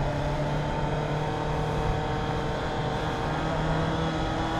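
Honda CB650 motorcycle engine braking, a steady low droning exhaust note with a constant hum and rumble held at even loudness throughout, close and continuous with no talking.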